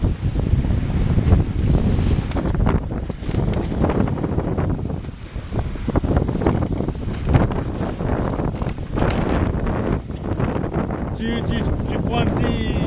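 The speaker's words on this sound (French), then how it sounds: "Nous avons 22 nœuds de vent à peu près" Strong wind, about 22 knots, buffets a Lagoon 380 sailing catamaran at sea while it crosses from Tobago to Grenada, a loud, steady roar with waves washing under it; someone talks over it.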